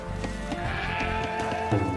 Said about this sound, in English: villagers can herd sheep or hunt deer for food